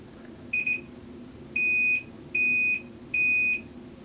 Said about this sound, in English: And now we are starting to hear those beeps.